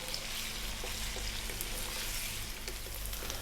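Potatoes frying in a pan, a steady dense sizzle with faint crackles and occasional stirring scrapes, close and continuous with no talking.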